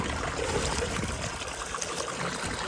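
Water gushes steadily from the pipe of a small motor pump, a constant rushing flow with no pauses, fairly close.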